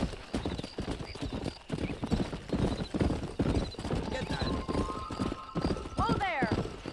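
Horse hooves clip-clop at a gallop in the Red Dead Redemption video game, a steady rapid rhythm under continuous talk and music, with a whinny rising near the end.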